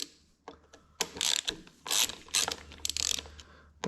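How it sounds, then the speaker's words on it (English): Sharp ratcheting clicks and metallic tool sounds come in short bursts as set screws are loosened on a race car adjuster in a workshop, close and fairly quiet with brief pauses between. "So I'll go ahead and loosen the set screws that lock the adjuster in place."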